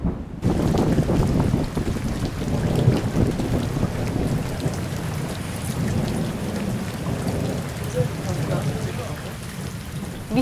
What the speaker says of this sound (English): And then it just started pouring out of nowhere.